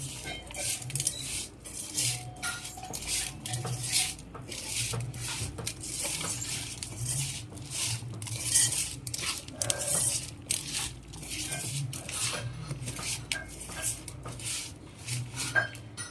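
Chili powder being stirred into a small-fish curry (pitta parigelu) in a pan, with steady scraping and clinking of a spoon against metal and soft wet mixing, moderately close, continuing without pause and with no talk.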